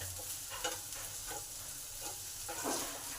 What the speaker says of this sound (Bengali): আদাটাকেও একটু ভালো করে ভেজে নেবো,